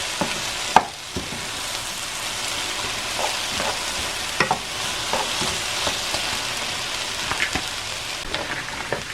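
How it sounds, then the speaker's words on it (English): A squash casserole mixture with bread crusts is stirred in a hot pan. A steady close sizzle runs under repeated scraping and stirring strokes, with no voices. "And this is all stirred in really well."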